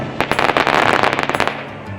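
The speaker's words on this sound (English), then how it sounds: "As entertainment, there were fireworks popping off during dinner." Fireworks pop outdoors at a Bedouin-style desert camp in Siwa Oasis, Egypt, a rapid crackling string of loud bangs in quick succession, then fading.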